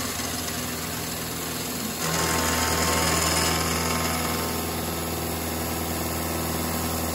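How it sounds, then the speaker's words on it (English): A carbide insert cutter mills a 4140HT steel shaft flat on a Bridgeport mill, a steady high-pitched machine hum with a tonal cutting whine that grows louder about two seconds in and holds steady, close and without talk. "You can hear the cutter."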